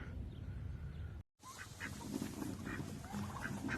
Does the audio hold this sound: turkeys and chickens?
yes